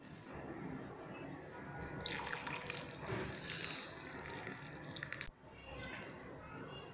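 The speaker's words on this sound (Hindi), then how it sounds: "आप इसको स्ट्रेनर की मदद से मैं इसको कप में डालूंगी" Herbal kadha poured through a strainer into a cup, a soft trickling and splashing of liquid at close range that stops abruptly with a click.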